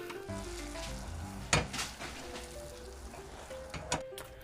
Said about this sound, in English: the same amount of sugar and water in a pot. I put 7 tablespoons each. Boil that over medium heat.